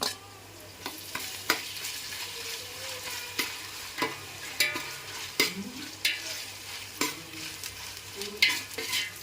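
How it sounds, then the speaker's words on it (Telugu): Ginger garlic paste fries with onions in a pan for coconut rice, a steady sizzle broken by repeated scraping stirs of a spoon at a loose, uneven rhythm, close and alone without talk. "అల్లం వెల్లుల్లి పేస్ట్ కూడా వేసుకొని బాగా వేపేసుకుందాం"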